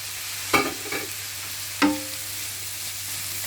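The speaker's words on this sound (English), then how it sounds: "Give it a good stir." Carrot, cabbage, leek and spring onions frying in a pan give a soft, steady sizzle, broken by two clear scraping clinks of a utensil stirring them, close by and with no talk.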